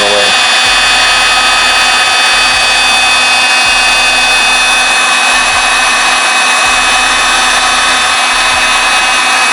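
Heat gun blowing steadily on coloured PPF wrap film, a loud continuous airy roar with a constant whine, lasting throughout without a break.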